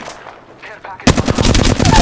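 Apex Legends video game gunfire, a quiet lull with faint sounds and then a sudden loud, rapid burst of automatic shots, close and rattling, continuing to the end of the clip.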